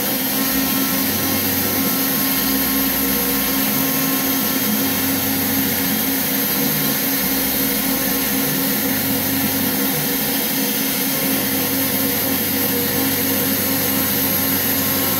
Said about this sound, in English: I got a good shop vac, or a good dust boot that works